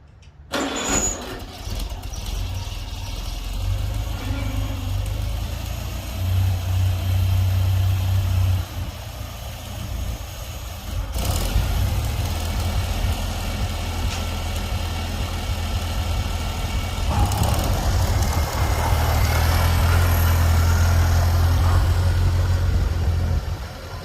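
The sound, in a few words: Farmall Cub tractor engine running with new starter and carb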